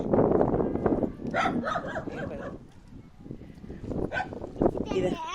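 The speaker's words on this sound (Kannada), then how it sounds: "ಒದ್ರಾಡ್ತಾವ್ರಿ ಒಂದೊಂದು ನಾಯಿ" Several village dogs bark and yip excitedly at newcomers, close by and loud, with overlapping voices talking throughout and a whimpering note toward the end.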